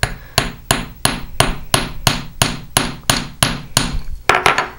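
A hammer strikes the end of a jewelry wire on a hard surface to flatten it slightly, about a dozen sharp, evenly spaced metallic taps close up, speeding into a quick flurry at the end, with no talking.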